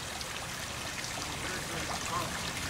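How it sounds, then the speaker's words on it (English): Pumps feeding a koi pond push out water that pours and splashes in a steady, even wash. It holds at a moderate level and does not change over the short stretch. "I gotta go turn the pumps on for a bigger. Lots of water is gonna come out now."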